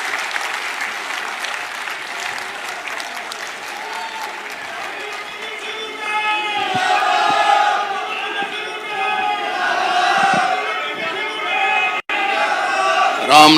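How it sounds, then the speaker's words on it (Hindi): A large crowd at a political panchayat rally in Tohana, Haryana, claps steadily, swelling louder partway through with scattered shouts and cheers mixed into the applause. "हुड्डा साहब का तालियां बजा के स्वागत करो।"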